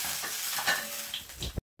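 Fish frying in hot oil in a pan, a short burst of sizzling with scraping stirs and light clinks of a utensil, close and moderately loud, ending abruptly.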